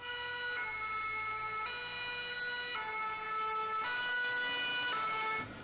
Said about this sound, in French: Dans un brouhaha de gyrophares et de sirènes, les engins à la queue leu-leu quittent le bâtiment maintenant vide.